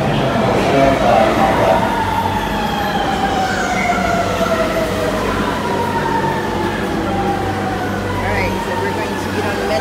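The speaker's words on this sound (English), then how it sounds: "There's our metro." A metro train rolls loudly into a station in China, a steady rumble with rising and falling metallic squeals and whines as it slows, filling the whole stretch with continuous noise; people's voices are faintly mixed in.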